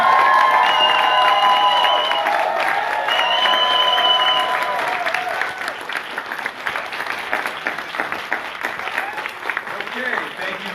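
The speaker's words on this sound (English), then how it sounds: "Please give them one more round of applause." Audience at a career college graduation ceremony applauds and cheers the graduates, a loud sustained wash of clapping with shouts and whistles layered on top, fading slightly toward the end.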